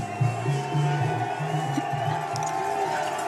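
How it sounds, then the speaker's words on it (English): A steady roar from a football crowd at a Montana Tech versus Carroll College NAIA playoff game in Butte swells across the stands, a continuous distant wash of voices with no single cheer standing out. "Crowd getting quite loud once again here in the Mining City."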